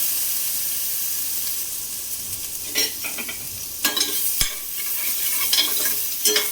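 Diced potatoes sautéing with turmeric in a pan, a continuous frying hiss broken by a few sharp spatula scrapes and clinks against the pan.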